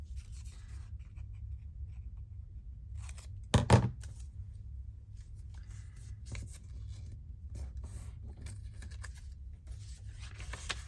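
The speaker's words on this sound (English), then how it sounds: "Not those, I'll use the other scissors" Scissors snip through paper at a craft table for an illuminated medieval botanical project. A brief, sharp cutting burst stands out once, followed by faint scattered clicks and rustles in a quiet room.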